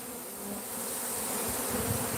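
Bees buzz steadily in a fairly faint, continuous drone that hangs in the air for the whole stretch, with no talking.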